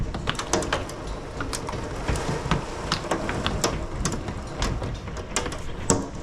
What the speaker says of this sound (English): That sound you're hearing is hail hitting the window.